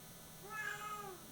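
A single drawn-out cat meow, fairly faint, with a wavering harmonic tone lasting under a second against a quiet background.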